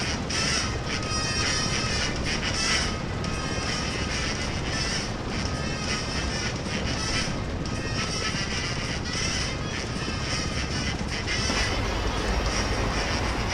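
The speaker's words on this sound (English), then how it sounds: "Let's let the engines warm up a little bit." Douglas DC-3 piston engines idle and warm up on the ground at Rome Fiumicino Airport in a flight simulator game, a steady rumbling drone with crackling texture, continuous and loud throughout.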